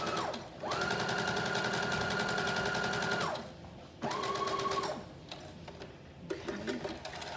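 A sewing machine runs a loose, long basting stitch for a 3/8 inch hem on a Simplicity 8642 flutter top, in two close, steady bursts of rapid rhythmic stitching, the first about three seconds long and the second shorter, with handling noise between and after.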